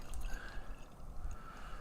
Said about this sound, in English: Let's see how this thing pours.